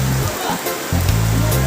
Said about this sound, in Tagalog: Ayan o, ang lakas ng ulan o.